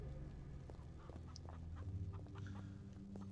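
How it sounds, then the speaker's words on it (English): Chicken clucking in a Tomb Raider Level Editor game level, faint short clucks scattered over a steady background of game ambience and music. "I hear you, fucking chicken cluckles"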